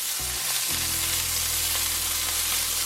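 A smash burger frying in a cast iron pan: a loud, close, continuous sizzle with steady crackle, with a brief low thump near the start.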